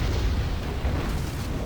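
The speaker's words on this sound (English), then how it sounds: "Koala from the Zoo team bouncing around throwing mortars at random" Mortar rounds from the Tribes 2 video game burst on the Pandemonium map, giving a loud, rolling, rumbling boom that fills the moment without any voices.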